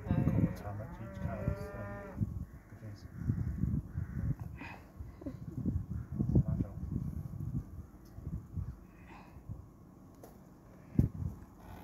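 Cows in a field in Cornwall moo, one low drawn-out call near the start, followed by distant lowing, rustling and outdoor background noise.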